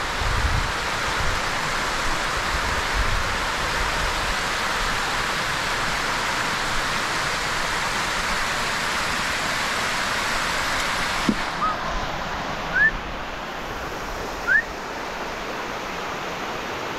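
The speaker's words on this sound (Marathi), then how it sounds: "हा बघा धबधबा" Waterfall at Bedse caves, a constant broadband roar of falling water heard steadily throughout, fairly loud and close, with a couple of faint chirps late on and no talk.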